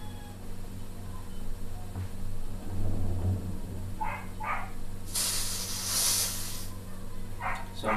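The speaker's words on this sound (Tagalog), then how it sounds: "kargahan natin siya ng hangin para makita natin kung may sisingaw" Compressed air hisses loudly for about a second and a half into an Armscor airgun being pressurized during reconditioning, with a few shorter bursts before and after over steady low hum.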